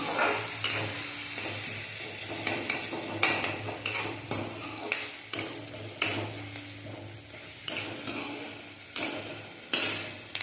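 Vegetables for masala Maggi roasting in a pan, with a soft continuous sizzle broken by regular scraping stirs, close and fairly quiet, with no voices.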